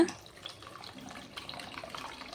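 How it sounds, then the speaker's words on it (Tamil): Tamarind water is poured into a clay pot of eggplant curry, giving a soft, continuous splashing trickle that stays fairly quiet and steady throughout. "இப்போ புளி தண்ணி ஊற்றிடலாங்க"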